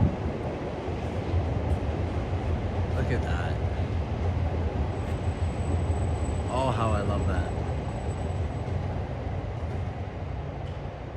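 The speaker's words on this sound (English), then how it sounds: "you get the trains in the background like this." Trains pass nearby in Tokyo at dawn near a small shrine, a steady loud rumbling roll of rail cars throughout, with a person talking briefly over it.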